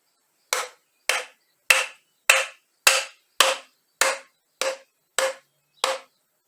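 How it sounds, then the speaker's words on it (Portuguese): Ten evenly spaced wooden taps hit a PVC pipe fitting for an aquaponics central vent as a small piece of wood drives it about 3 cm into its socket, each knock sharp and close with a short decay, no talking. "a gente pega um pedacinho de madeirinha e vai batendo aqui até verificar que ele entrou"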